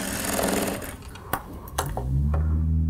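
Sewing machine stitching the second side of a belt, a fast steady mechanical whir that pauses for a few sharp clicks and then starts up again, close and clear.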